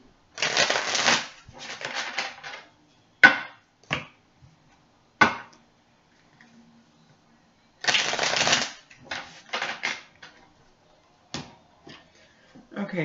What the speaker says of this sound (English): Just one more shuffle on these cards